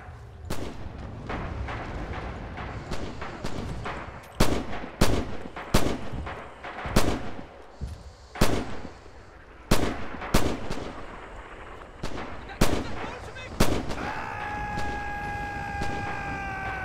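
Gunfire in the video game Red Orchestra 2, where sharp rifle and gun shots crack out at irregular intervals, loud and close, some in quick bursts, over a background rumble of battle.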